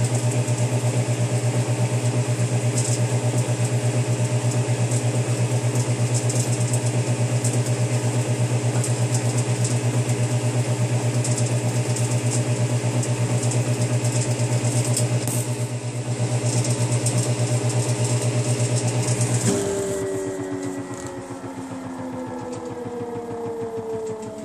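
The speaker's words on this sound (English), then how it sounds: "but there is also that grinding noise" An empty Samsung washing machine spins with a loud, steady mechanical drone and a grinding hum that holds for about twenty seconds. Then it drops in pitch and eases into a lower whir as the drum slows.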